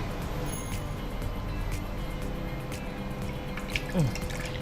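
Water poured into a muskmelon milkshake, a soft liquid trickle and drips over a constant background hum, with a brief splash near the end.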